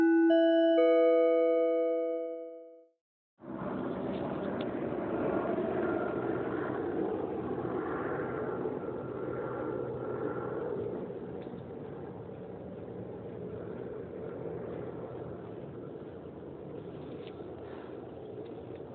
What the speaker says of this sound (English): That's a helicopter flying behind me.